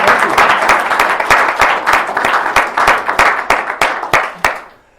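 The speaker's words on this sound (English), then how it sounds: "Come on, that's worth a round of applause, right?" Applause from a press-conference audience welcoming Mr. Monk to Nebraska, a steady burst of many hands clapping with a few sharper claps standing out, then fading away at the end.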